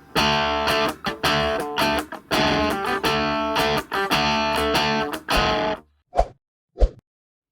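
Electric guitar overdriven through a TC Electronic Dual Wreck boost pedal plays gritty chords in short rhythmic bursts with brief gaps, ending in two quick muted plucks before silence.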